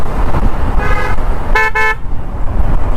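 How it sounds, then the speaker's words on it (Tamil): Heavy Chennai city road traffic rumbles steadily while a car horn gives two short honks, one brief and one longer with a quick double toot, over the constant roar of nearby vehicles. "எவ்வளோ டிராஃபிக்னு பாருங்கள்."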